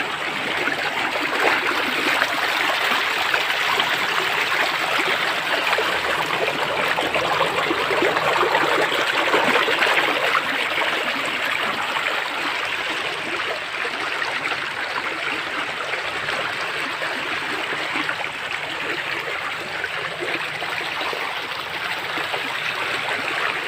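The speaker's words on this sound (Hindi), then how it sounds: "देखो पानी किस तरह मोड़ दिया" Water diverted away from a road rushes along in a steady flowing stream outdoors, a constant broadband burble and splash that stays loud and even throughout with no voices.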